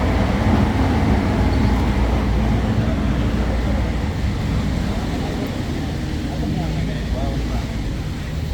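Loud, steady rumble inside a moving Flix train, with dense low-frequency roar and rattling filling the whole stretch at near-constant level.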